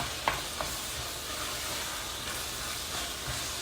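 Meatless efo riro stew sizzling in a pot as it is stirred, a steady close hiss with a few soft spoon scrapes and knocks, no voices.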